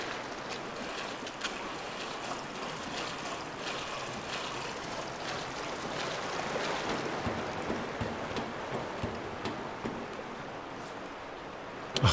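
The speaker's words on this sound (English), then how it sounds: "The water in this part of the area takes up too much of the sound." Steady rushing flowing water ambience in the Resident Evil 3 Remake video game, a dense continuous wash with faint scattered clicks and taps on top, moderately quiet and unbroken throughout.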